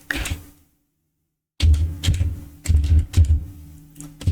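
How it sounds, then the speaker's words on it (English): Bursts of rapid keyboard typing, close and crisp, with a silent pause of about a second before the clicking resumes in quick clusters. "I'm typing my website name."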